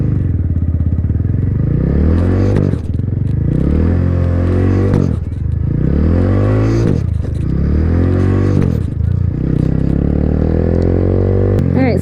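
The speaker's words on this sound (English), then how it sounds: "I was giving it a little bit more gas while I dumped the clutch" A beginner's motorcycle is revved hard, and then the clutch is dumped for a wheelie. The engine note climbs and falls through several loud, close revving surges over a sustained rumble.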